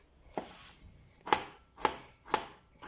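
Three sharp knife chops on a cutting board, evenly spaced about half a second apart, follow a lighter tap, close and clear with no talk, while preparing sausages in beer sauce.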